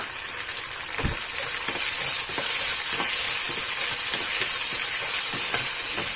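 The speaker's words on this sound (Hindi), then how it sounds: "उसके बाद इसमें एक कटी हुई टमाटर ऐड करेंगे, इसे भी भून लेंगे।" Chopped tomato frying with ginger-garlic paste in a pan for pyaaz wali bhindi, a steady close hiss of sizzling oil with occasional scrapes and knocks of stirring, no talk.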